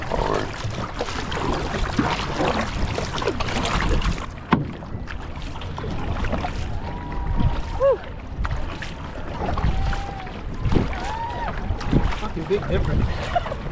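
Outrigger canoe paddled in a race on open water, with steady splashing and wash from the hull, wind buffeting the microphone, and occasional voices in the background.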